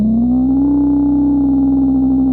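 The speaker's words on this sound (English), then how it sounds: "it's effectively giving you a sine wave over the top of the other" Korg ARP Odyssey synthesizer holding a steady, loud sustained tone, a pure sine wave layered over its other oscillators, with a slight pitch rise partway through and no talking.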